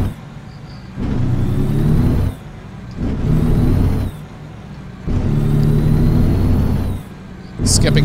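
An International truck with a heavy excavator load accelerates through its gears late at night in American Truck Simulator, the engine surging loud and low in repeated pulls, dropping briefly at each shift.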